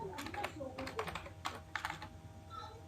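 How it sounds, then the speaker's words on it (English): Keys clatter on a computer keyboard in quick, uneven bursts as someone types an SQL update statement, the taps close and crisp with short pauses between runs. "So we will start by typing update"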